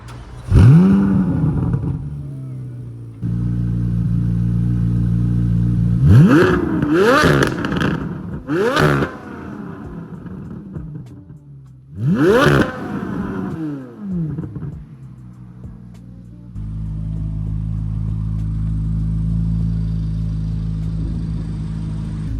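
Corvette Z06 with a naturally aspirated V8 cranks and fires up, then snaps through several sharp, loud revs before settling into a steady, rumbling idle close by.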